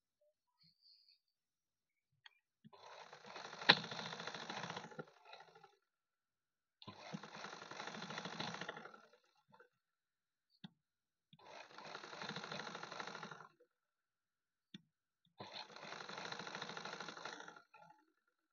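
A sewing machine stitches blouse cups in four long, steady runs of rapid needle clatter separated by short pauses, near and alone without talk.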